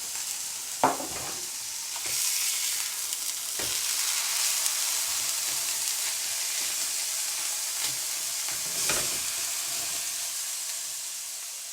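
Venison burgers fry in rapeseed oil in a pan, giving a steady bright sizzle and hiss that runs throughout, broken by a few louder crackles and sputters near the start and end.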